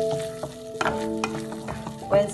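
Tomato puree frying in hot oil for dhaba-style chole: a close, continuous bubbling sizzle broken by stirring scrapes, with steady humming tones running underneath.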